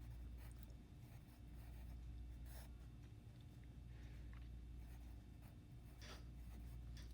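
Pen strokes scratch across paper while working out a math problem, faint and close, in short irregular bursts over a low background hum.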